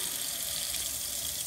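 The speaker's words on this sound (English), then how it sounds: "I'm going to turn my sink on to hot water" Hot water runs steadily from a sink tap, a constant close hiss and splash with no talking.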